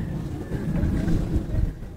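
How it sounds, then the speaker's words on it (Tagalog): Strong wind buffets the microphone while someone fishes beside a patch of water spinach, making a steady low rumbling roar with small gusty surges and no voices. "Medyo mahangin mga kabiwas"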